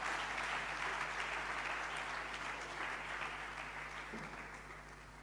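Sustained applause from a gathered audience for a speaker at a political forum, dense and steady, slowly tapering toward the end, with a low hum underneath.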